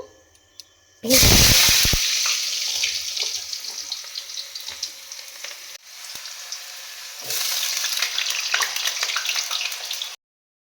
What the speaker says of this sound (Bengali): এখন তেলের মধ্যে আমি দিয়ে দেব কেটে রাখা আলুগুলো